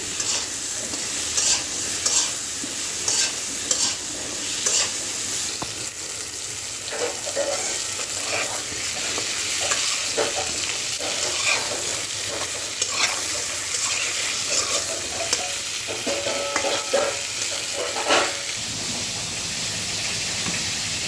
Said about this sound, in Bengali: এখন আমি পটলগুলো নাড়াচাড়া করে একদম লাল লাল করে ভেজে নেব।